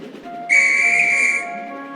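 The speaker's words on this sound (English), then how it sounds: "The guard's whistle blew, and Gordon puffed sadly away." A train guard's single shrill whistle blast sounds for about a second, high and piercing, ending cleanly over a quiet background hum.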